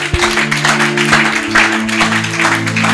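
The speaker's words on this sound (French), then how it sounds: "quelqu'un acclame la puissance de la parole de Dieu" A church congregation cheering and clapping during a Bible teaching on Genesis 12: a lively crowd of voices with scattered claps sustains throughout, over a steady low musical hum.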